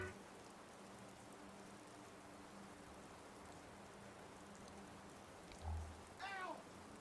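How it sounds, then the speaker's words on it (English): Steady rain falling in the video game Skyrim, a continuous soft hiss of drops spread evenly throughout, with a brief low thump and a faint higher chirping sound near the end. "It's raining."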